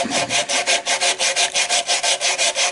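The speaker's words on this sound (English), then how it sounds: "Then I'll take a piece of sandpaper like this and just round it up." Sandpaper rounds a corner of a turned mahogany bowl by hand. Quick, even back-and-forth rasping strokes, about five per second, sound loud and close with no speech.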